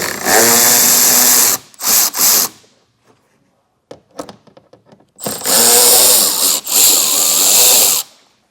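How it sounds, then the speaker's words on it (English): A power tool drives out T25 screws in the wheel well of a 2025 Volvo XC90, in two loud close whirring bursts separated by a pause with small handling clicks. "Now in here we have a series of T25 screws. I'll just go from the top to the bottom and get them all removed."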